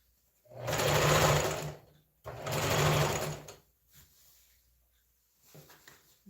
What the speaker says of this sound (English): like the way this thing is sewing.